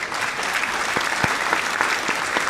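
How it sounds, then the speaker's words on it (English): Applause for a man from an audience, a steady dense wash of clapping mixed with a few cheers, loud and close, filling the whole moment without talk. "Applaud that man. Give him some cheers."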